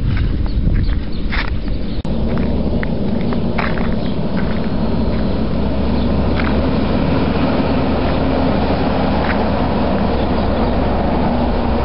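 A long triple road train truck comes down a hill, its heavy diesel engine a loud, steady rumble that holds throughout, with a sharp knock near the start and no talk.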